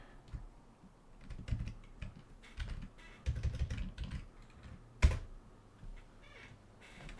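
Soft, irregular keystrokes clatter across a computer keyboard, quick bursts of clicks with short pauses between them, ending in one sharper tap, all low in level and without talk.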